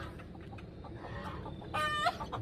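A hen clucks a few times against a steady outdoor background hum, with a brief louder burst of clucking near the end.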